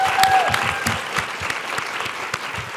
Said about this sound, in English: I just want to give her another round of applause